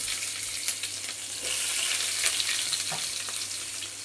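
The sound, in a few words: chopped onion added to hot oil, frying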